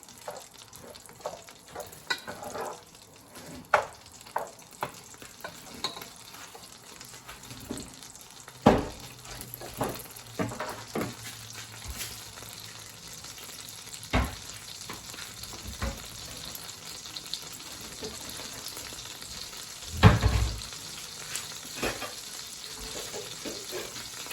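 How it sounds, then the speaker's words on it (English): Egg being stirred into a hot pie filling in a pan, with a soft sizzle and frying hiss under repeated scraping and stirring clicks, one louder clatter near the end, no talking. "you're gonna mix it in the pan, in the pie"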